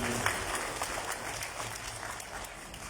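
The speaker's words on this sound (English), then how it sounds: "So a loud round of applause for him." A steady wash of audience applause fills a festival venue, moderately loud and continuous throughout, with no break or standout claps.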